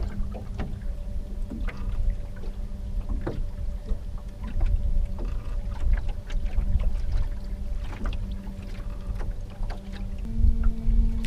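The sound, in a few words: boat moving slowly on water while fishing for pike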